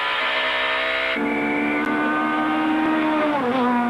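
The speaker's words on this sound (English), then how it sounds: "That engine rev, okay, it's going to be handbrake turns at the top." A rally car's engine revs hard and steadily during the 2003 Sasol Rally, with a sustained loud roar whose pitch shifts up partway through and drops near the end, close and continuous with no talk.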